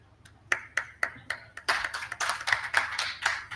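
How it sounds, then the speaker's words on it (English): A lone person on stage at a housing show claps hands, first in slow, evenly spaced single claps, then in a quicker, fuller burst of clapping close to the microphone. "I'm clapping for myself."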